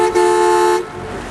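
A car horn sounds in rural Texas as one loud, steady, near honk lasting nearly a second, then cuts off and leaves a quieter hum from the vehicle.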